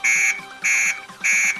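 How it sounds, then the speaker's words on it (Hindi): A phone alarm clock app rings in three identical bursts of a bright electronic beeping tone, each about half a second long, separated by short gaps, loud and close with no talk. "ये देखिए दोस्तों, हमारा अलार्म बज रहा है"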